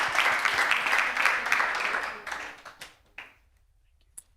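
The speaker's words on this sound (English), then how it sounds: "One more round of applause for our wonderful speakers." Audience applause for panel speakers at a mobility conference, a dense burst of clapping that thins out over a few seconds into scattered last claps.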